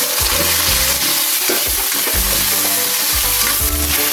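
Garlic, onion, chili and tomato sizzle loudly in a hot pan, a steady close frying hiss broken by repeated scraping stir strokes in an uneven rhythm.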